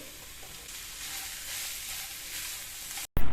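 Sliced onions frying with about three quarters of a kilo of beef in a pan, giving a steady hissing sizzle that swells slightly midway, followed by a brief cut and a louder clatter at the end.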